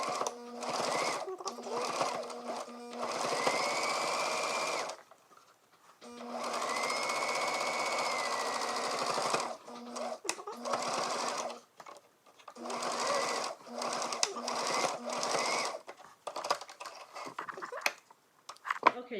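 A sewing machine stitches a homemade face mask shut over elastic hair-band flaps, running loud and close in several long bursts separated by short pauses.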